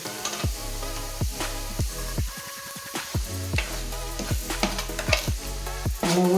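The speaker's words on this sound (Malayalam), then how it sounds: "2 കൂട്ടം മുളക് പൊടിയും കൂടെ ഇടാം. ഇളക്കി കൊടുക്കാം." Chili powder sizzles in hot oil for a mango pickle while a spoon stirs it in a steady rhythm, with repeated close scraping strokes over a constant frying hiss and no talking.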